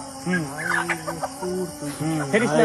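A chicken clucks and squawks close by in a quick, uneven run of calls that fills the whole stretch.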